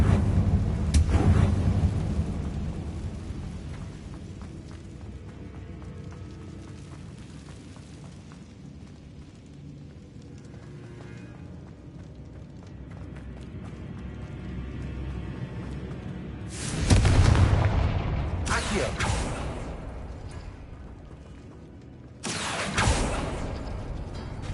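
Confringo blasting-spell explosions in the Hogwarts Legacy video game: a loud blast at the start, then a low rumbling lull, then two more heavy bursts, each with a booming tail.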